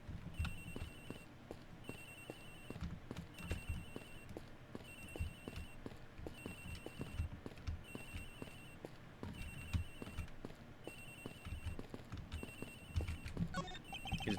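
A phone rings in the Ace Attorney Investigations video game, a repeating electronic ring in regular bursts about once a second, over a busy rhythmic game background of low thumps and clatter.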